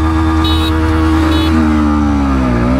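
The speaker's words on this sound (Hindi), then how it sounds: "मैं चला रहा हूँ बजाज पल्सर N125 और अंकित चला रहा है एक्सट्रीम 125" Bajaj Pulsar N125 and Hero Xtreme 125R motorcycles in a drag race, their engines droning loud and close, with the pitch sliding up under acceleration and a brief horn-like tone mixed in.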